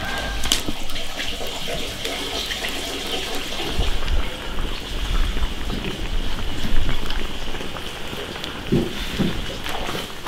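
Blanched beef intestines rinsed under a running kitchen tap, continuous splashing water with handling clatter and a few knocks, fairly close.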